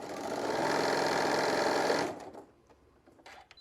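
A sewing machine stitches around a fabric shoulder wrap in a fast, continuous whirring run of about two seconds, then stops, leaving faint handling noises.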